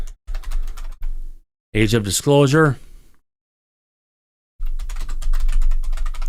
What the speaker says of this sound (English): I'll bring it on this screen so I can actually see what the hell I'm typing